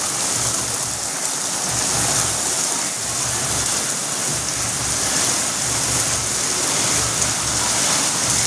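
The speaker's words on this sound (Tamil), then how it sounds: "நல்லா மழை பெஞ்சிட்டு" Heavy rain pours steadily in Delhi, a dense continuous hiss close by with no break and no voices over it.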